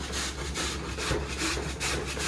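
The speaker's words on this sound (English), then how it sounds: "we are going to grate the potatoes with the small part of grater" Raw potatoes rasp against the small holes of a kitchen grater in quick, repeated back-and-forth strokes, close and loud.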